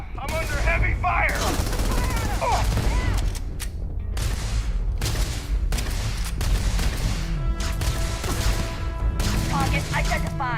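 Heavy gunfire in the video game Starfield, loud bursts of rapid automatic shots in repeated volleys separated by brief pauses, with voices talking between and over the shooting.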